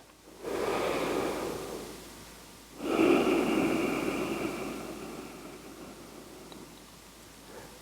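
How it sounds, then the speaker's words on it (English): Two slow, deep breaths in a pranayama exercise, each a long airy whoosh close to the mic, the second stronger and trailing off gradually into quiet. "maybe taking a couple breaths just to feel that"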